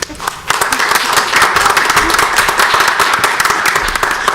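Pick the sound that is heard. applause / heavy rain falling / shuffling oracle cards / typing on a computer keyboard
applause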